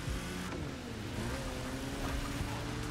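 A VW Bus engine in The Crew Motorfest game revving under nitrous boost, a steady loud droning roar with shifting pitch and no talk.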